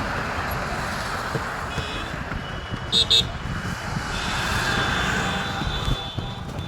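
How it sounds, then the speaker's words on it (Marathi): A convoy of cars heading to a political rally for the deputy chief minister through a grain market area: continuous engine and road rumble with a quick double horn toot midway and a swelling pass-by near the end. "गाड्यांचा ताफा चाललेला आहे सभेला"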